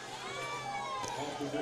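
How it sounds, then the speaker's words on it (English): A football crowd at a high school senior night game yells and cheers in a continuous, fairly distant roar, mixed with voices. "So I hear the crowd yelling, "Go for dos.""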